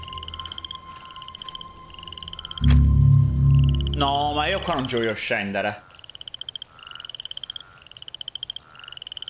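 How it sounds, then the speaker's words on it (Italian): Frogs croak in a rhythmic chorus inside the video game Octave, with regular pulsing calls, interrupted midway by a loud burst of game sound and someone speaking Italian before the steady croaking resumes. "Quando le rane cantano non c'è da temere."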